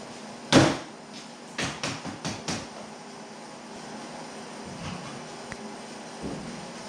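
The passenger door of a 1930 Model A Roadster thumps shut loudly once. A series of smaller knocks and latch clunks follows, then quieter handling noises against a steady background hiss.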